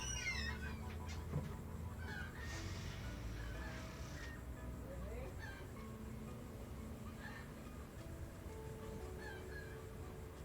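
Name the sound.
chickens squawking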